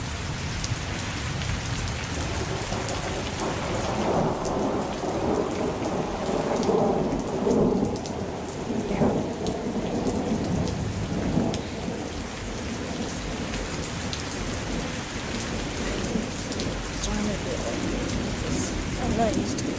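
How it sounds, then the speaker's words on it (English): Heavy, steady rain pours throughout a thunderstorm while deep thunder rolls rumble beneath it, loud and continuous with no pauses. "the storm's gonna last a while"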